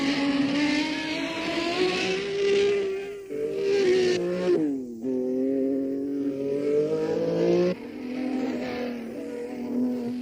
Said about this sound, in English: the big red Ferrari as it rushes towards the finish